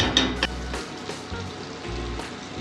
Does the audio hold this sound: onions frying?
yes